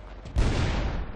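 A tank cannon fires in the World of Tanks game, a single loud booming blast with a rumbling decay.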